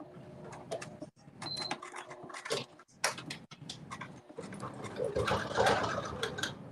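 A sewing machine stitches across the top of a crossbody cell phone bag in short, irregular runs of mechanical whirring and clicking, fairly faint, with brief quiet pauses.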